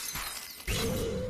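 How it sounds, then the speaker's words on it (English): Glass shatters in the video game Superhot, a short crisp break that bursts out loudly after a brief quieter lead-in, with no talk. "I love the sound of the glass break."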